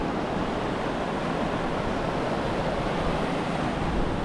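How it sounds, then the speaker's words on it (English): A huge river rushing down a valley on Dartmoor, a loud, steady broadband roar of churning water that fills the whole moment without pause, with no voices. "But then it's this huge river coming down here."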